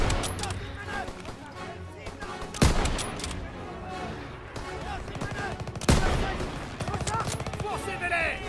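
Bursts of MG42 machine-gun fire in the World War II shooter Call of Duty WW2 ring out amid layered game effects, with two sharp loud shots standing out, while someone talks over the action.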